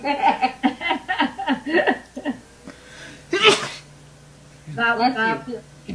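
A single sharp sneeze bursts out between stretches of conversation, loud and close, with voices talking before and after it.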